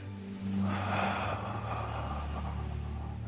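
A single deep physical breath, drawn in and then let out, close and clear against a quiet room, with no talking over it.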